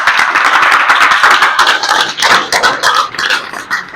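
Hall audience applauding for a teacher at the opening ceremony of a coaching class in Maharajganj, Uttar Pradesh: dense, loud, continuous clapping from many hands, steady throughout with no talk.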